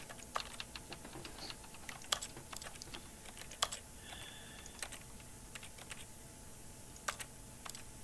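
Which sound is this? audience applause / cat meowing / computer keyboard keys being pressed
computer keyboard keys being pressed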